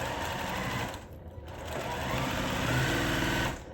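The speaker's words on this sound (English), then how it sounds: "I'm not sure if you can hear me over the sewing machine." Sewing machine stitching a quilt block, its steady close mechanical whir running almost throughout with a brief dip partway, no talk over it.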